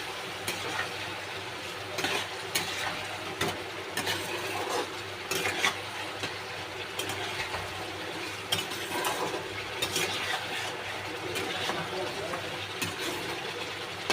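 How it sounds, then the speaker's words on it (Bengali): Egg kaliya curry stirred in a pan, a steady scraping and sizzling that runs throughout at moderate loudness, with no voices. "এবার একটু নেড়ে দেবো।"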